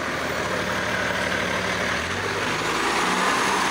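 Heavy diesel engine of a Hillsborough Fire and Rescue water tanker truck pulling out from a wildfire near Estacada, a steady loud rumble that deepens and grows slightly heavier midway as it moves off, with no talking.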